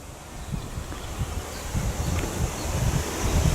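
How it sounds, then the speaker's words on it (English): Gusty wind buffets the microphone outdoors at a campground, producing low rumbling bursts that swell and grow stronger over a few seconds. "I didn't really plan on wind sound, but I don't know as much I can do about it."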